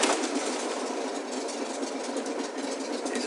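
A 1974 Volkswagen Beetle Limited Edition Sun Bug's air-cooled engine runs at a steady idle, a continuous busy mechanical drone with no talk over it.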